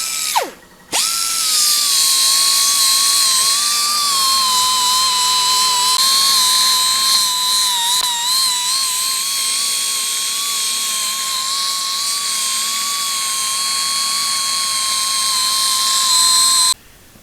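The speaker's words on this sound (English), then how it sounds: "we're going to mill the anvil part of this really flat and make this really nice" A milling machine cuts steadily across the cast anvil face of a Wilton C2 bench vise, a sustained loud high whine that holds for many seconds after a brief spin-up and stops abruptly at the end.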